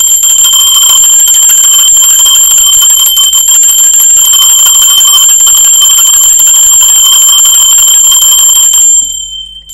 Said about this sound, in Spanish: Va campana.